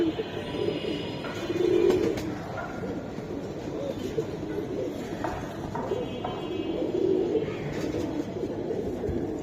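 Giribaz pigeons coo in a steady low murmur that runs throughout, swelling in soft bursts near the start and again toward the end, with a faint rumble like a passing train underneath.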